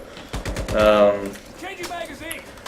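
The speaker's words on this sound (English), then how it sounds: "I got used to the AK by playing with this. It has low rate of fire" Gunfire from an AK SOPMOD rifle in the Metro Conflict video game: a short, close run of sharp shots at a modest rate of fire, with a voice talking over it.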